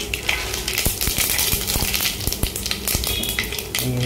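Cumin and sauce sizzling in a hot frying pan for a Bengali bottle-gourd dish, a steady close crackle dotted with sharp irregular pops and ticks, with no talk.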